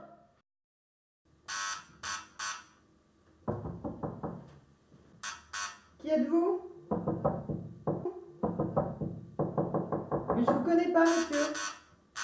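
Knocking on a door comes in short repeated bursts of raps, fairly close and loud, with gaps between the groups of knocks.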